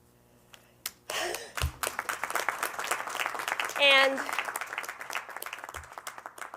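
Audience applause at a congressional press conference, steady clapping from the room that swells and carries on for several seconds with voices mixed in.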